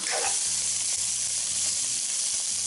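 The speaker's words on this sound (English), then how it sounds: "that's getting a nice sear on it" Faux lamb searing in a hot pan with salt, a loud steady sizzle and hiss that holds unbroken throughout, close up.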